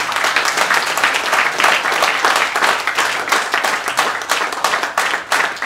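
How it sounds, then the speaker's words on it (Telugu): Audience applause fills a meeting hall, steady dense clapping from many hands lasting several seconds, loud and close with no talk over it. "క్లాప్స్ కొడదాం ప్లీజ్."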